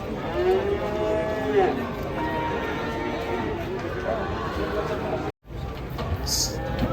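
Cattle moo repeatedly amid a busy crowd, with people talking and shuffling throughout; the noise cuts out briefly before the lowing and chatter resume.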